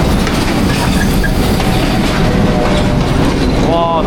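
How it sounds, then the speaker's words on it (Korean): A passenger train pulls into a station with loud, continuous rumbling and clickety-clack from the wheels, faint squeals near the end, and a little talk mixed in. "여기 기차가 온다."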